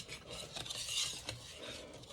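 Low-protein pancake batter is stirred in a bowl for Santa pancakes, a quiet, close swishing with faint scraping and light utensil clinks.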